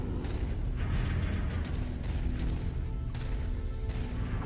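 Ammo explosions in the mech game Mechwarrior 5 crash and thump in a busy cluster, with several sharp bursts over a rumbling low roar, loud and close.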